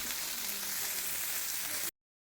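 Fish fries on a tawa with an even, crackling sizzle, close and steady for about two seconds before cutting off abruptly to silence.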